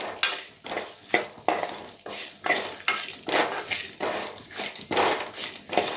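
Grated coconut sautéing in a pan, with repeated scraping strokes of a spoon against the metal over a soft sizzle, close and rhythmic.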